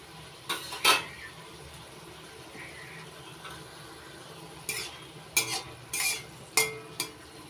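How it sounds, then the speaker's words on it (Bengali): A spatula stirs Malabar spinach curry in a metal pan, with several sharp scraping clinks in short bursts over a faint low sizzle, close by and with no talking. "নাড়াচাড়া করে নিলাম।"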